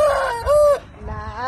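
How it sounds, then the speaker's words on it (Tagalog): A chicken clucking close by, two drawn-out, strained clucks and then a lower, rising call, loud and clear with nothing else heard. "Ngayon lang ako nakakita ng manok nga ganitong manok."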